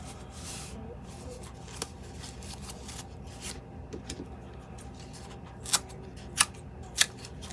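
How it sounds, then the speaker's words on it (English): Scissors snip textured, crimped paper into strips of varying widths, giving a few sharp, close cuts near the end over quiet rustling handling of the paper. "I think I want to cut it into strips."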